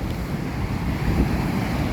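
Strong sea waves roar at the Kizhur river estuary in Kasaragod during heavy rain and floodwater, a constant loud low rumble of surf mixed with heavy wind buffeting the microphone, with no voices.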